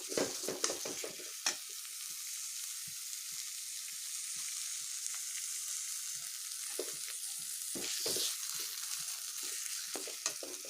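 Chopped tomatoes frying in a spice masala while making a Mithila-style potato curry, with a steady hiss of sizzling oil and scattered clinks and scrapes of stirring near the pan.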